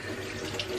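Tap water runs into a sink to wet a cloth, a brief steady splashing stream heard close and alone for under a second.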